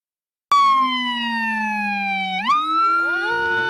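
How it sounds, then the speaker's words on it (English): A loud electronic fire truck siren starts suddenly with a steady wailing tone, then jumps upward in pitch and keeps sounding close by. "This is the standard siren you're probably used to hearing."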